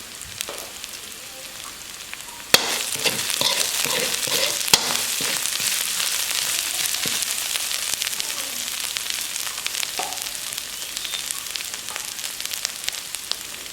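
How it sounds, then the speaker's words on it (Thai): Chili and garlic stir-frying in a hot pan for a spicy catfish dish, a loud continuous sizzle broken by sharp scraping clicks of a spatula against the pan, with no voices. "พริกกระเทียมที่เราผัดครับผัดจนหอมดีแล้วครับ"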